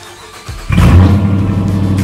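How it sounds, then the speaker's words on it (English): A Dodge Charger's engine cranks and fires up with a sudden loud roar, then settles into a deep, rumbling idle with slight revving, close by and alone. "this behind me is my Dodge Charger. Let's get it started up."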